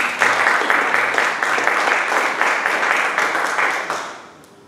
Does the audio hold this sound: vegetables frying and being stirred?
no